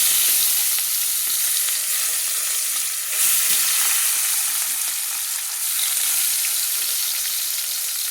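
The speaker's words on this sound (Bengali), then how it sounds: "এই বাটা মাছগুলো আমি ভেজে নেব" Bata fish marinated in turmeric and salt frying in a wok, a dense, loud and continuous hissing sizzle that holds steady throughout with slight swells.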